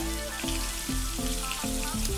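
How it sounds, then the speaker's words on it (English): Cheesesteak meat browning in a pan, a continuous soft sizzle and crackle of frying close by, with low repeating tones running underneath and no talking. "So I'm gonna let that brown just a little bit longer."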